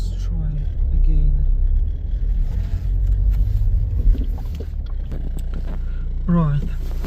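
A Dacia Duster 1.5 with a no-acceleration fault pulls away through the gears, its engine droning and rumbling loudly up close, rising and falling with shifts while someone talks over it.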